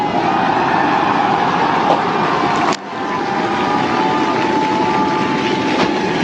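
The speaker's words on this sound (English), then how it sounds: "We have liftoff." Rocket engines roar at liftoff during launch footage of a booster later shown returning to land. A loud, steady, broadband rumble fills the whole stretch, dipping briefly partway through before resuming just as strongly.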